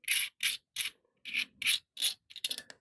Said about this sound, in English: you kind of use like your whole thumb and you can unscrew that